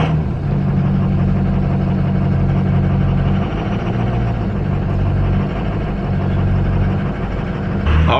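Ford Powerstroke 6.0 diesel pickup truck engine running steadily and loud up close, a continuous low rumble throughout with no talking.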